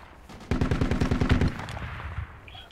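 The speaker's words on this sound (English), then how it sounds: "There's a Dushka or something, or a 50 cal on the marker?" Heavy machine gun, a DShK or .50 cal, firing a sustained burst of about a dozen rapid, booming rounds in Project Reality, loud and fairly close, then trailing off into faint echo and background rumble.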